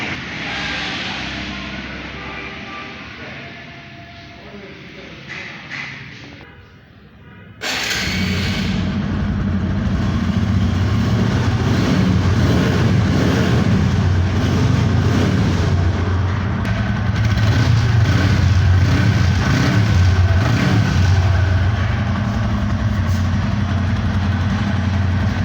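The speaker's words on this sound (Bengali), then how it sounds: "বাইকটি সাউন্ড অ্যাক্সেলেটার টেনে এবং ছেড়ে দিয়ে দেখালাম আপনাদেরকে।" Used Apache motorcycle engine, first a softer idle that dips and nearly fades, then a sudden jump to a loud, sustained rev with rough low rumble as the throttle is opened and held, close up.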